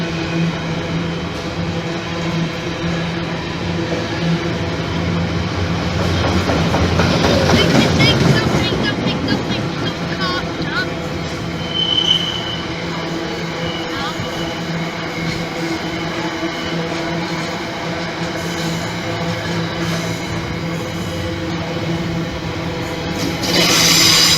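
Class 66 diesel locomotive 66743 passing at Gainsborough Lea Road, bound for Doncaster, a steady low rumble swelling to a loud peak midway, then continuing as sustained wheel and engine noise.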